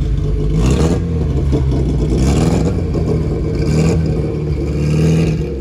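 A homemade Bugatti Chiron replica built on a steel frame, fitted with a four-cylinder engine of roughly 100 horsepower, runs close by, giving a loud, steady, throbbing engine note with faint clattering and slight rises in revs.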